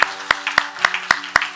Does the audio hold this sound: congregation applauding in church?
yes